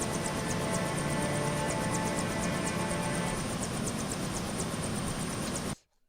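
A helicopter landing effect within a film score, a loud broad rotor roar with a rapid high chopping pulse that holds steady, then cuts off abruptly into silence.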